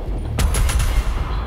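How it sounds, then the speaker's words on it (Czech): Machine gun fire in the Doom Eternal video game: a rapid burst of heavy automatic shots rolling over a dense, loud rumbling background of game noise, with no speech. "Chápu, střelba, ok, prostě kulomet."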